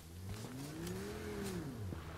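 A car in a video game drives off, its engine revving up in a rising then falling pitch over a couple of seconds, fairly faint and with no talk.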